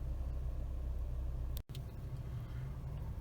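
A Volkswagen T-Cross 1.4 250 TSI Highline sits running after a push-button start, its engine giving a steady, close, low idle rumble that cuts out for a split second midway before settling again.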